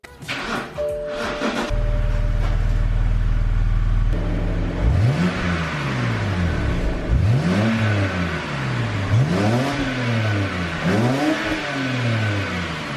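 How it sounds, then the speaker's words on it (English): A stock exhaust on a truck, with the pipe running between muffler and catalytic converter, idles low, then revs up hard in about five separate rising-and-falling sweeps. The sound is loud and close, with no one talking over it. "listen to how the exhaust sounds stock"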